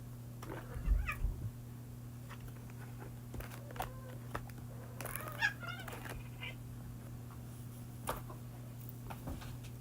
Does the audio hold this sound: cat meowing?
yes